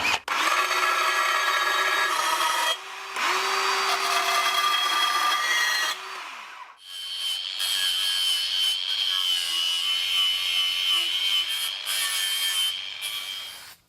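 Steel bracket being drilled and cut in a home workshop, a loud steady power-tool whine with a pitched drone for the first six seconds, then a brighter, higher cutting screech that runs continuously to the end, with no talking.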